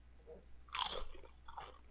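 Korean Doritos chips crunch loudly in one close bite, followed by quieter chewing bursts; no voices.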